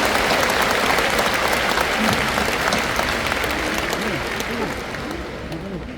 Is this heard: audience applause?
yes